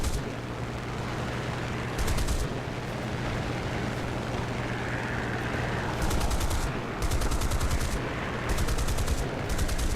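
Spitfire machine guns firing in a combat flight game, several short sustained bursts crackling over a steady loud engine drone, with pauses between bursts.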